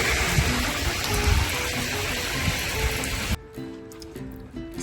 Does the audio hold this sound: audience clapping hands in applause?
no